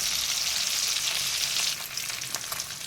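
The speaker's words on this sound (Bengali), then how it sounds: "বাটা মাছগুলো দিয়ে দিয়েছি এইবার এক পিট ভালোভাবে ভেজে নেব" Steady, loud sizzling of bata fish frying in hot oil over medium flame, a continuous crackling hiss that eases slightly toward the end.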